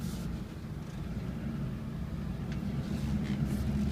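A 2004 Chevy Silverado diesel dually pickup drives along with a steady, deep engine drone and road rumble heard from inside the cab, constant and moderately loud.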